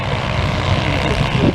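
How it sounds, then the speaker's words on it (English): Small engines power motorized wheelie bins racing up a field at a Purple Helmets show, a loud, continuous buzzing drone that swells slightly near the end, with no talk heard. "You hear those little engines straining up the field"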